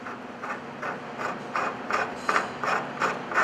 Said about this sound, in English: align the threaded rod with the threads in the bottom of the beam clamp and then screw